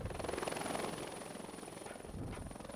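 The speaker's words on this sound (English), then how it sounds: "A helicopter took us back to Camp Maple Leaf in Macedonia." A military helicopter in flight near Kosovo and Macedonia gives a steady, rhythmic rotor thump over a continuous engine whine, heard from inside or close by, moderately loud throughout.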